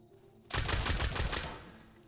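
A nail gun fires in the video game Rust as a rapid burst of loud, close shots lasting about a second, followed by fading reverberation.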